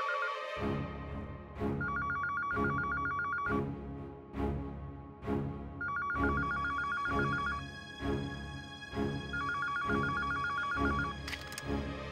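A telephone rings in repeated electronic bursts with short gaps, sounding over a steady rhythmic thumping background; no one speaks.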